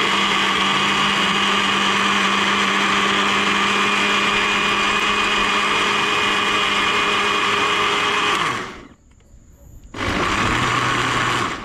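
Overloaded household blender grinding loudly and steadily with a strained motor whine, cutting out abruptly near the end, then restarting after a short pause.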